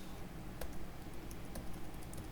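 Keys tap steadily on a computer keyboard while Node.js server code is typed, quick light clicks over a constant background hum with no talk.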